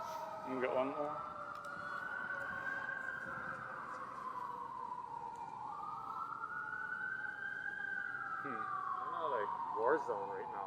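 A siren wails in long rising and falling sweeps, fairly distant, while people talk intermittently nearby at the beginning and end.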